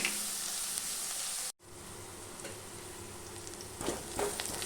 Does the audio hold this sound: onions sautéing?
yes